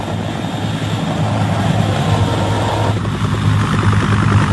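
Helicopters arriving aboard U.S. aircraft carriers off the coast in the South China Sea during the 1975 fall of Saigon; a loud, steady engine-and-rotor drone fills the whole stretch without letup.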